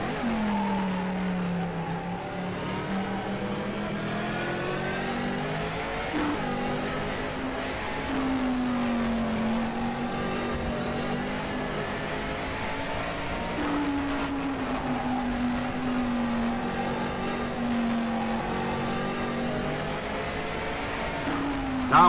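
A 1967 BMW Lola Formula 2 race car at the Nürburgring, heard from onboard: a loud, continuous engine drone that rises in pitch through the gears, drops sharply under braking, then climbs again under hard acceleration.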